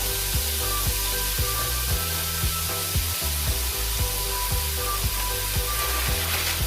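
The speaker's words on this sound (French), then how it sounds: "Pendant que les champignons reviennent avec les oignons dans la casserole" Mushrooms and onions sizzle steadily in a saucepan, a continuous close hiss with faint low knocks and clicks recurring throughout, no voices.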